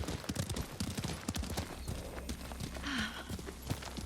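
Steady clip-clop of horse hooves at a riding pace in the video game Ghost of Tsushima, fairly close, with a brief whinny partway through and faint ambient noise behind.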